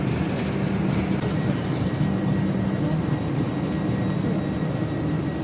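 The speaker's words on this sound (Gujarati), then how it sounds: "અત્યારે અમે રેલવે સ્ટેશને બેઠા" A constant low rumble of rail traffic fills a station, with a steady drone and faint tonal hums, no clear voices.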